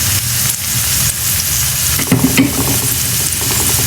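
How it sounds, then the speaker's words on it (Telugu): Onions frying in a pan for a palak potato masala curry, a loud steady sizzle with stirring scrapes and a brief clatter partway through, no talking. "ఆనియన్స్ ఫ్రై అయిపోయినాయి"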